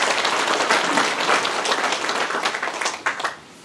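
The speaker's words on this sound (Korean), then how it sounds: "다시 한번 박수로서 성원 부탁드리겠습니다." Audience applause at a county government briefing on plans and local projects, dense steady clapping from a crowd that runs loud for about three seconds, then fades quickly at the end.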